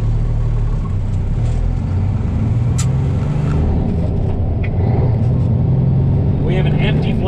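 A semi truck pulling an empty 53-foot flatbed drives through the city, its engine a steady loud rumble with a brief air-brake hiss partway through.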